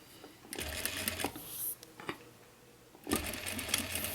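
A domestic sewing machine stitches a seam on a small box tote bag in two rapid mechanical bursts of rattling needle clatter, separated by a brief pause. It sounds close, fairly quiet and without speech.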